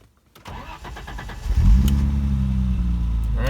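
A manual-transmission 1987 BMW 325 E30 cranks briefly, then its engine catches and settles into a steady, loud idle close by, with no clutch pressed during the start.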